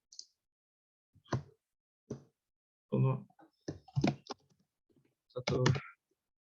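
Typing on a computer keyboard while entering variable names in SCADA software, with clusters of sharp key clicks separated by short silences, close and fairly quiet.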